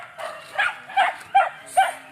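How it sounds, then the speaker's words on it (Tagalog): Several dogs bark in short bursts, about five barks in quick irregular succession at moderate distance, with faint background noise between them. "Dami rin pala mga aso."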